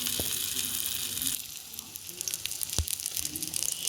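Battered chicken and vegetable sticks dropped into hot oil, a bright hissing sizzle that softens after a moment and continues with scattered pops and crackles up close.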